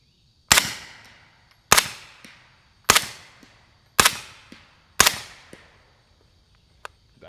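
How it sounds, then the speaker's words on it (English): A YHM R9-suppressed 9mm fires five 147 grain subsonic rounds at a steady pace. Each is a clipped, fairly muted pop with a short tail, followed by faint clicks in a quiet outdoor setting. "Now we got some 147 grain subs loaded up. Let's see how these sound."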